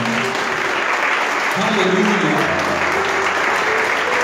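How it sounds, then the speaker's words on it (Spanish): A church congregation gives a loud, sustained round of applause to the Lord at the close of a service, dense and steady throughout, with a voice calling out over it. "Denle un aplauso fuerte al Señor."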